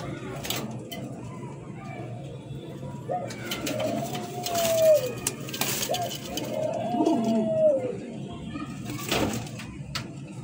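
Lahori pigeons coo nearby in a cage, with two distinct rolling coos in the middle stretch over a low background rumble and a few soft knocks.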